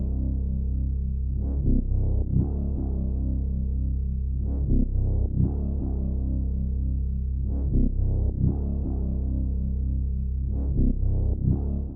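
Reversed infinity bass faded in as a transition in FL Studio, deep sustained bass tones that swell and repeat in a slow, throbbing pattern with rising sweeps, loud and alone.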